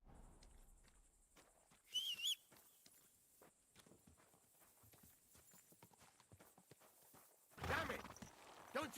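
Horse hooves from a video game, Kingdom Come: Deliverance II, clip-clop in a steady walking rhythm, with two brief bursts of whistling or neighing layered over the footfalls.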